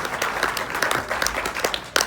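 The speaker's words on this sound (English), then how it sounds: "Please give her a big round of applause." A crowd at the JACAP music awards applauding Lydia Rose, the organization's general manager, with scattered, fairly close claps in a brief, uneven burst.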